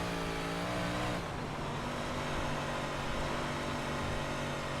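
Dirt 358 modified race car roaring around the Lanier dirt oval in an iRacing sim, engine droning loud and steady the whole time with a pitch shift early on as the throttle changes.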